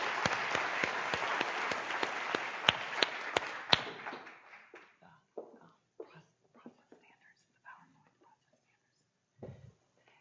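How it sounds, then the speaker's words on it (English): Conference audience applauding after a plenary talk, a burst of dense clapping that thins out within a few seconds into scattered claps and quiet murmuring. "All I can say is, wow, another round of applause."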